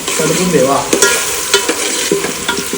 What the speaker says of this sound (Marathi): आता कांदा बटाटा शिजतोय, थोडा लाल व्हायला आलाय